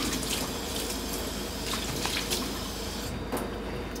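A horse mackerel is rinsed clean of leftover innards under a running tap, the water splashing in a steady, close, unbroken hiss the whole time with no voices.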